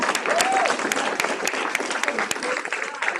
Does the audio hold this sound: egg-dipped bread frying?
no